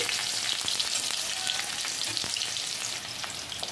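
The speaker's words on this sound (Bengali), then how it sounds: "তেলটা গরম করে আলুটা আমি এর মধ্যে দিয়ে দিচ্ছি।" Potatoes frying in hot oil in a kadai give a dense, steady hiss of sizzling with scattered pops and crackles, close and continuous throughout, with no voices.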